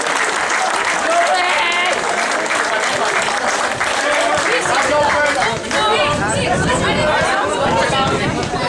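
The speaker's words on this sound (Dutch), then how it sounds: "En nogmaals een groot applaus voor de winnaars bij de onder 15" Loud, sustained applause from a crowd at a youth football prize ceremony, honoring the under-15 winners from Winterswijk, with dense clapping and crowd chatter running throughout.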